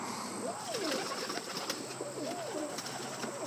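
A male Portuguese tumbler pigeon coos in several rising and falling rolling phrases, close and clear over a steady background hum and occasional rustles.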